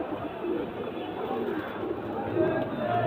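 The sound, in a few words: pair of heavy breeding pigeons cooing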